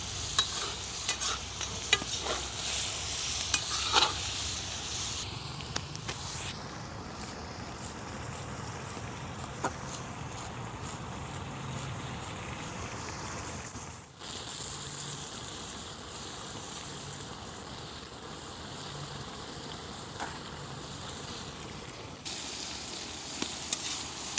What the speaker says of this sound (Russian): Размешаем это все